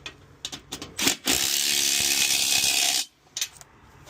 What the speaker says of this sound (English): Gonna take a 13 millimeter deep socket.